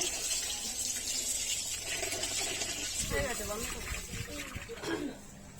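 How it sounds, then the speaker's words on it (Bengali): Tap water runs steadily into a sink while raw meat is washed by hand, a continuous close splashing stream with brief gurgles and sloshes near the end. "মাংস ধুচ্ছি"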